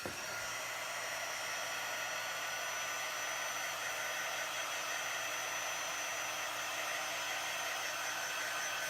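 A hair dryer blows steadily to dry chalk paste on a surface after a font transfer with Chalk Couture, giving a loud, continuous, close whir with no break.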